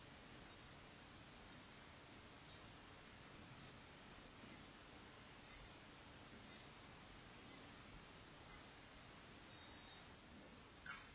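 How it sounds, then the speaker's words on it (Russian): A Casio G-Shock G-300 watch timer sounds a countdown of short, evenly spaced electronic beeps about once a second, quiet at first then louder, ending in a longer beep tone; no talk. "включается звуковой сигнал обратного отсчета, и причем он меняет тональность свою"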